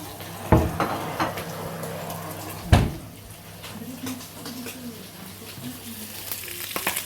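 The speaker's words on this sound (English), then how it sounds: "Maureen's cooking her breakfast." Breakfast frying in a pan, a soft close sizzle with a couple of sharp pan or utensil knocks and a voice talking faintly in the background.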